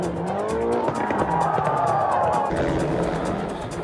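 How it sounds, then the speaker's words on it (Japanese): Mitsubishi Lancer rally car in the 1998 World Rally Championship crashing in a high-speed corner: a loud, continuous engine roar with squealing, skidding tyres throughout. "しかしバーンズのランサーが高速コーナーで転倒。"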